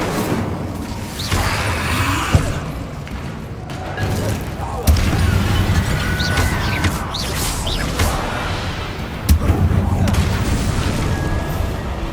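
Incendio fire spells blast in the Hogwarts Legacy video game as several deep booming impacts with whooshing tails, spaced a few seconds apart over dense combat noise. A voice can be heard faintly in the mix.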